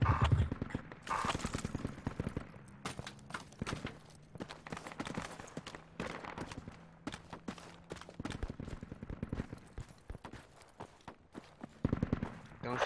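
Machine gun fire in a shooter game, rapid irregular bursts of sharp cracks running throughout at moderate distance, with voices talking over the shooting.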